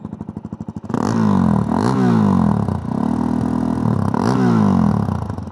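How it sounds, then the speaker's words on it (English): A Suzuki DRZ400 single-cylinder motorcycle sits at idle with a rapid chuffing pulse, then is revved hard in several loud, brappy bursts that rise and fall, recorded close up from behind the bike. "It's that classic brappy kind of single cylinder"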